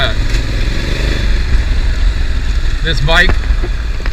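A Honda Africa Twin adventure motorcycle on a Mount Hood ride, its engine a steady low drone under wind rush, with a voice talking over it for most of the stretch.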